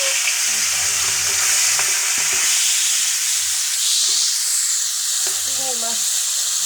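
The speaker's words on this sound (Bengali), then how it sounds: "তেলটা দিছি, মাছটা দিয়ে দিলাম।" Prawns hit hot oil in a pan for a prawn and jute-leaf curry, giving a bright, steady sizzle and crackle throughout, close to the listener, with a few faint knocks and no talking.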